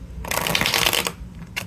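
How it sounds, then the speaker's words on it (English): A deck of Red Hand Tarot cards is riffle shuffled up close, giving a dense fluttering rush of cards followed by a short bridging flick. "let me just go and shuffle."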